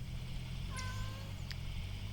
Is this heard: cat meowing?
yes